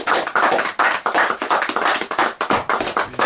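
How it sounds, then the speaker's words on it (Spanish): A group of people clapping hands in applause, a steady, close burst of claps lasting a few seconds with no talk. "Un aplauso, muchachos."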